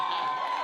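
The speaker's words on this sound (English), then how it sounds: "whoever was standing up and cheering the loudest" A crowd of creators at a live camp event cheers and shouts continuously, a loud, dense roar of many voices.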